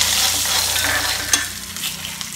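Urad dal, curry leaves and turmeric crackle and sizzle in hot oil as a spoon stirs the pan, a busy close frying hiss with one sharp scrape partway through.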